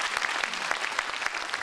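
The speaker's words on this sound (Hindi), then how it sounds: "इनके लिए जोरदार तालियों से स्वागत करेंगे।" Steady, dense applause from a large crowd, many hands clapping at once without pause, loud and close throughout.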